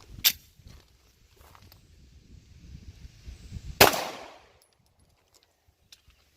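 A single sharp 9mm pistol gunshot cracks loudly near the four-second mark, trailing into a brief echo, with a smaller click earlier and faint footsteps and shuffling around it.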